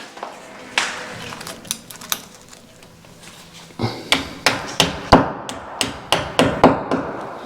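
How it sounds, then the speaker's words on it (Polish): Hammer blows drive a wall plug into a drilled hole in a wall, a few scattered knocks followed by a steady run of sharp, close, evenly spaced strikes, with no talk over them. "Wbijam kołek."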